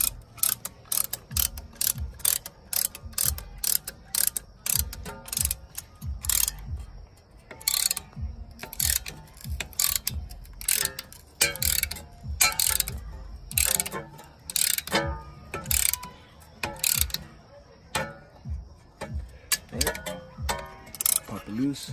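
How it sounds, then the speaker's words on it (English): A Lisle 279 caliper compressor tool cranks a brake caliper piston back on a 2014 Jeep Wrangler, giving repeated sharp ratcheting clicks in irregular bursts, close and crisp against a quiet background. "I'm gonna be using my Lane 279 caliper compressor tool."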